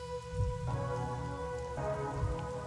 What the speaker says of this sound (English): The rain isn't falling on me, but rather, I am ascending toward it.